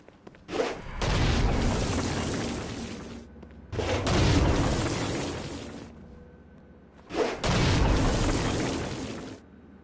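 Three heavy Stone Blast explosions from the Saints Row: Gat out of Hell video game, each a loud, booming burst that rumbles on for about two seconds before cutting off, spaced evenly apart with brief silences between them.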